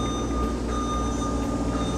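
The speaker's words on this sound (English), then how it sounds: "You can hear now the alarm sounding and the boom's functions have ceased." Secondary guarding alarm on a boom lift, triggered when the operator presses against the guard bar near a roof. It sounds as a steady, continuous electronic tone, fairly loud, holding unchanged over a low mechanical hum throughout.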